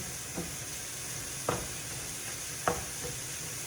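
Ground meat being broken up with a MixNChop in a stainless steel pan over a steady background hiss and sizzle, with a few sharp scraping clicks of the tool against the pan.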